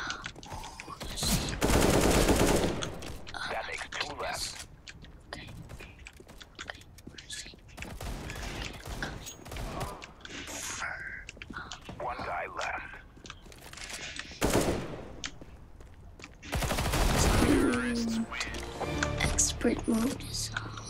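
Counter-Strike: Global Offensive gunfire in expert mode comes in loud automatic bursts, with quieter stretches between them and a player talking throughout.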